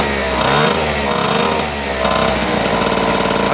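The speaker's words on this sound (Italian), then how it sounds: "si sente che il motore gira bene" A small two-stroke moped engine with a Polini 70 racing kit idles loud and close, its rapid buzzing putter wavering, briefly dipping then picking back up.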